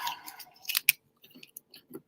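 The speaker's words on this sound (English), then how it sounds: "I'm gonna use my scissors to open this." A few crisp snipping and crinkling sounds close by as scissors cut open packaging of a quill pen kit, with a sharp single snip standing out, followed by scattered quieter rustles.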